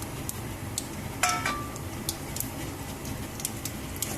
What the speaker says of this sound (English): The mustard seeds are now spluttering.